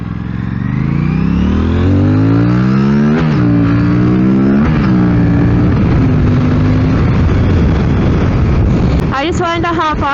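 An Aprilia RS 457 motorcycle engine whines through rising revs and gear changes while riding, with gusty wind noise over the microphone and a sharp rev climb near the end.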